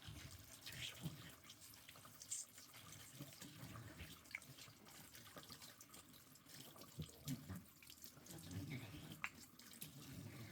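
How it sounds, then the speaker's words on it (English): A tap runs steadily into a sink while an ink-filled pen cap is rinsed under it, giving a faint, continuous splashing wash with small drips. "Turn the tap off so you can hear me better."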